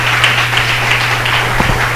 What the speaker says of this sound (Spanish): Denle un aplauso si usted lo cree así.